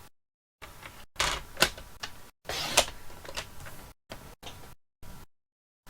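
Basic white card stock being cut into pieces makes a series of close clicks and slides with short rasping bursts and quiet gaps, uneven in rhythm, with no voice over it.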